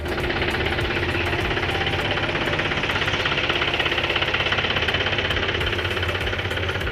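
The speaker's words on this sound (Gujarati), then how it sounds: "આઈસર 548 ટ્રેક્ટર છે" An Eicher 548 diesel tractor engine in good condition runs steadily nearby, a loud continuous rumble with a fast, even knocking pulse throughout.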